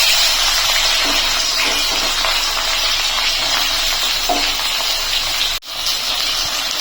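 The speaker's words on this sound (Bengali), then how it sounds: "কড়াইতে আমি তেল গরম করতে বসিয়েছি এখন আমি করলাগুলো দিয়ে দিচ্ছি" Bitter gourd pieces hit hot oil in a wok and set off a loud, steady, close hiss of frying that runs unbroken and cuts out briefly near the end.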